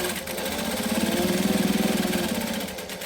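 A sewing machine runs a short stitch and backstitch over fabric wallet pieces, a close, steady motor hum with a fast needle rhythm that swells briefly and then eases off.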